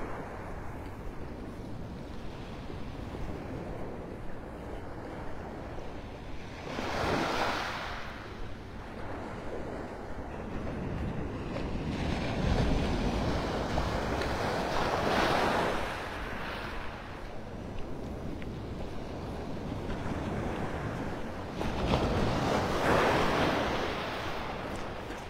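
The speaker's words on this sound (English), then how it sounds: "Those waves are hypnotic. It's like a lullaby." Surf washing onto the beach at Pelican Bay in North Naples, Florida, a steady roar that swells into several broad wave crashes, with light wind noise over the microphone and no talking.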